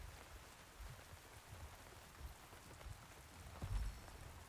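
Rain falls steadily in the video game Throne and Liberty, a soft, faint patter on surfaces with a slightly louder swell near the end.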